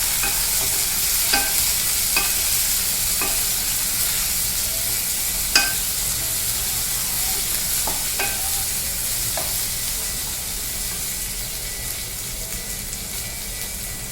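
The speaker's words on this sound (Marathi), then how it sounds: "टोमॅटो फ्राय करायचे आपल्याला." Tomatoes sizzling in a pan for veg pulao, a steady close frying hiss with a few sharp scraping taps of a spoon stirring at irregular intervals.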